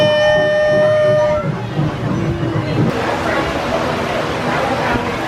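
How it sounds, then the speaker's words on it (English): A theme park train at Legoland Florida toots its horn with a held, tonal note that fades out, followed by rumbling crowd noise as people talk and call out nearby. "Here comes the train!"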